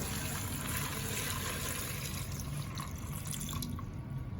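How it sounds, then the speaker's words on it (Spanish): About a litre of drinking water is poured into a cooking pot for chicha morada, a soft continuous trickle and splash with faint dripping, fairly quiet and steady throughout. "aproximadamente 1 litro de agua. Agua potable. Vertemos en la olla."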